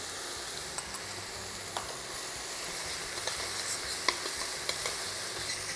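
Aromatics with fresh chopped thyme stirred in a pan, a soft steady sizzle with scattered light scrapes and clicks of the utensil, fairly quiet and alone.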